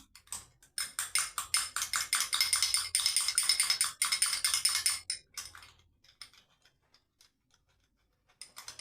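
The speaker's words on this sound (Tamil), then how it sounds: "மிளகுத்தூள் கொஞ்சம் சேர்த்து நல்லா பீட் பண்ணிடணும் மிக்ஸ் பண்ணிடணும்" Egg mixture with ground pepper beaten briskly in a bowl, a fast, rhythmic run of clicking whisk or fork strokes for about five seconds, then a few scattered taps close by.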